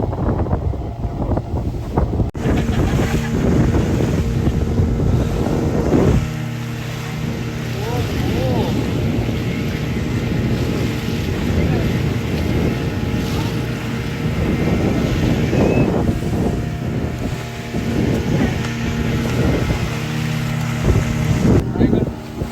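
A boat with two engines at sea off the Konkan coast drones steadily with a low harmonic hum, buffeted by heavy wind noise on the microphone, with voices talking intermittently over it.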